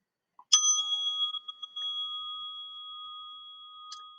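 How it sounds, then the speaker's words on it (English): A mindfulness bell chime rings out once with a long, clear, fading ring, some light rattling tones inside the decay, and a faint extra tap near the end. "3 bells."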